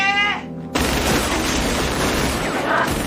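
A gunshot in a scene from the Japanese film Battle Royale, a sudden loud report breaking in after a quieter tonal passage, followed by a dense, sustained rumble with no talking.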